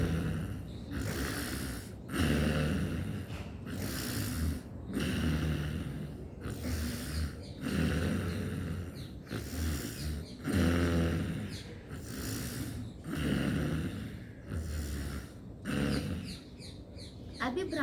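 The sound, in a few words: snore-like throat breathing in yoga pranayama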